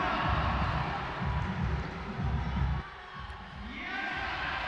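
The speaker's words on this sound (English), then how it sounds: "Every move being cheered by the big crowd here in Scotland." Big crowd at a lead climbing World Cup final in Edinburgh, Scotland, a steady roar of cheering and shouting that surges in waves and then eases to a lower murmur.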